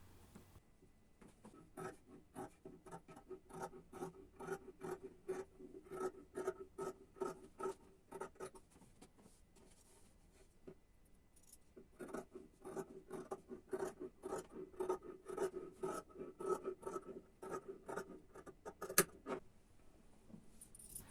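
Scissors snip through pinned, doubled-over fabric to cut a semicircle for a tree skirt: a steady series of crisp, close cutting clicks and rasps, pausing briefly midway before continuing.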